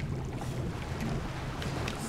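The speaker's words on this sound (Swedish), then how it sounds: "Ja, tänker jag åker båt." A boat rides across the water in the video game Far Cry 6, giving a steady, loud rumble of engine and hull noise with wind and spray hiss layered on top, unbroken for the whole stretch.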